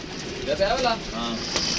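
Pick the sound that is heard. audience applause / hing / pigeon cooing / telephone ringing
pigeon cooing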